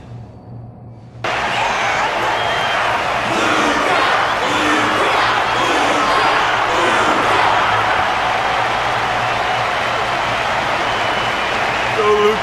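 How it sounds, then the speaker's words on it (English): Crowd applause and cheering from a fighting arena audience in the game Honkai: Star Rail, a sustained roar of clapping and voices that starts abruptly and continues loud and steady. "Their constant applause is a salute to this resilient Belabogian fighter."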